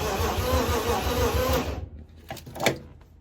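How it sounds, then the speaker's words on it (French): Infiniti G35 drift car engine running with a steady, dense rumble for about a second and a half, then cutting off into a few scattered clanks and knocks nearby. "Le moteur tourne."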